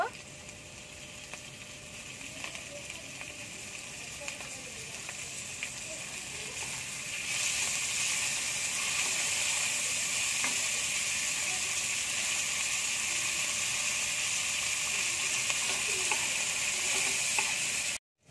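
Chicken pieces fry in a pan for restaurant-style chicken fried rice: a steady, close hiss that swells louder partway through, with occasional stirring scrapes and no one talking.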